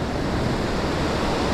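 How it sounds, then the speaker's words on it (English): Small ocean waves wash steadily onto a California beach under an onshore wind, heard as a constant loud broadband rush with wind buffeting the microphone and no distinct breaks. "Waves are real small."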